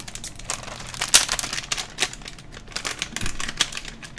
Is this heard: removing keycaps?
yes